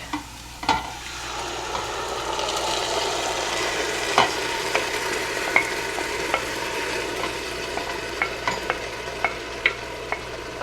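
A spoon stirs sauce with fennel in a pan, gentle sizzling and frying running underneath while sharp clicks and scrapes against the pan sound at irregular intervals, close and clear with no talking.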